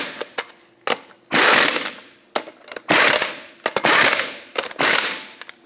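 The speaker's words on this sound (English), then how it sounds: "tighten them to 100 foot-pounds" A wrench tightens the lug nuts on a 2008-2012 Jeep Liberty wheel in a cross pattern with loud, close ratcheting. Several sharp bursts of clicking are separated by brief pauses and single clacks.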